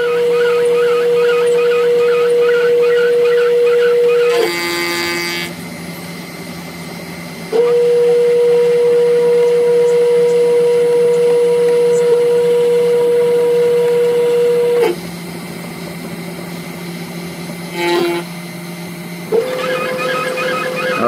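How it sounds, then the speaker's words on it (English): Loud, steady whine of a 500-watt CNC spindle drilling and milling, holding a pitch, dropping off and restarting a few times, with short higher-pitched bursts between runs. "now it's going to drill the corners and do a finish pass."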